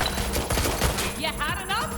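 Rapid gunfire in Watch Dogs: Legion, a dense crackle of close shots running through the whole brief moment, with voices chattering over it toward the end.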